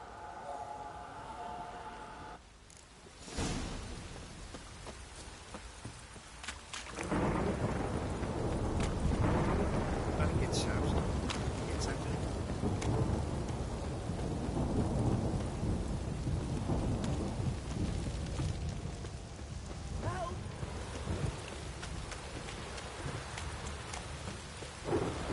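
Heavy rain and rolling thunder from a thunderstorm in the video game The Witcher, a loud, steady downpour wash that swells after a quieter start, with low rumbles throughout and a voice briefly present.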